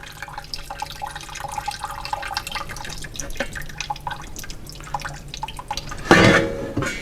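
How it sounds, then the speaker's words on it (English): Hot grease is poured out of a pot with a close, splashy liquid trickle and dripping, building to a louder burst of pouring near the end. "We're getting the grease out of the pot."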